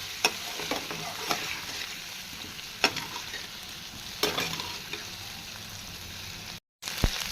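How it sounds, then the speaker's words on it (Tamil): Pieces of taro root (chembu) frying in hot oil in a pan, a continuous close sizzle broken by several sharp stirring scrapes, ending with a short cut. "எண்ணெயிலேயே முதல்ல நல்லா வந்து இதை நல்லா வந்து பொரிச்சு எடுத்துக்கலாம்"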